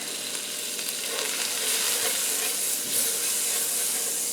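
Butter melting and sizzling in an electric skillet, a steady bright crackling hiss that holds evenly throughout, close and fairly loud with no talking.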